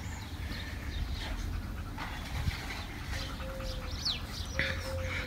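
Faint bird chirps and short calls ring out from a distance over a low outdoor rumble.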